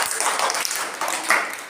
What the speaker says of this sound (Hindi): जोरदार ताली आर्यन के लिए।